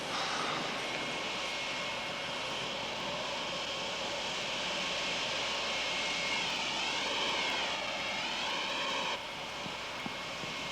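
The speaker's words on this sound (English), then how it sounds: "We've got to stop that jet." A jet airliner's engines roar steadily for several seconds, loud and sustained with a rising whine partway through, before easing slightly near the end; no voices.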